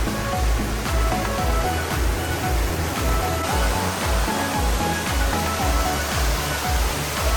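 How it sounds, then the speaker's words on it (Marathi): Water pours and rushes steadily at a forest waterfall near Karjat, a loud, continuous roar close by with no talking. "किती मस्त वाटतंय, दुधासारखं पाणी वाहतंय"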